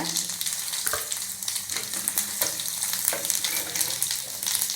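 Mustard seeds, cumin and vadagam sizzle and crackle in hot oil with asafoetida while tempering for drumstick sambar, a steady close frying hiss with scattered pops throughout.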